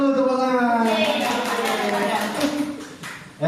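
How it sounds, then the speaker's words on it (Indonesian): Group of people clapping hands together in a classroom-style gathering, a brief burst of dense applause with a voice speaking over it before fading. "tepuk tangan dulu, tepuk tangan"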